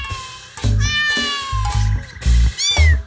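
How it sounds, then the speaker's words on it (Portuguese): A cat meows repeatedly in rising and falling cries, loud and close, over a steady rhythmic musical backing in a children's animal show. "Isso mesmo! Esse é o som do gato!"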